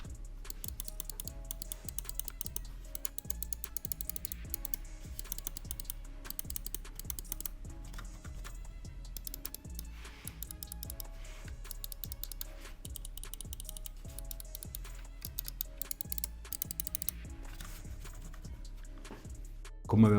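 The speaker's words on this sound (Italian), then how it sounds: "i tasti sono click perfetto" Button clicks of an Xtrfy M42 wireless gaming mouse: a long run of crisp, close clicks in quick, uneven bursts, fairly quiet, with no voice over them.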